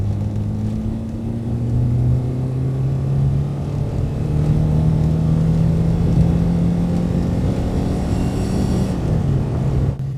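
A 1982 Renault 5 Alpine Turbo Gordini accelerates at full throttle in third gear. The engine drone is loud and steady and rises slowly in pitch over ten seconds, then eases off at the very end.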